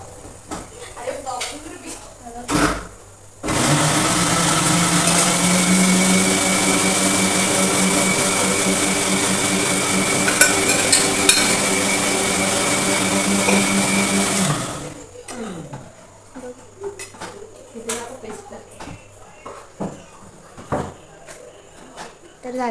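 An electric mixer grinder whirs loudly as it blends tomatoes into paste, a steady high motor whine running about eleven seconds before cutting off, with people talking before and after.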